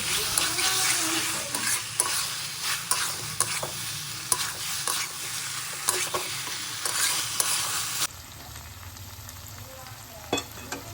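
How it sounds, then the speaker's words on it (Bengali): Mushrooms stirred and fried over a high flame for a creamy dahi mushroom dish, loud sizzling with repeated scraping stirs, then a quieter simmer near the end, no talk. "প্রথমেই 2 to 3 মিনিট আমি এখানে হাই ফ্লেমে নাড়াচাড়া করে নেব"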